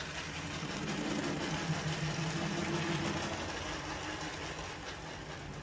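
A Class 03 model locomotive pulls coaches up a curved incline with some wheel spin, giving a faint, steady electric motor whir that holds evenly throughout with no talking.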